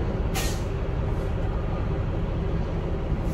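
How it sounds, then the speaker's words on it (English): Semi truck air suspension with the rear airbags inflating to lift the back end: a steady low engine rumble runs throughout, with a short sharp hiss of air near the start. "I like to drop my airbags, creep under there, about the first drive tire to the rear is my mark, and then I lift it up"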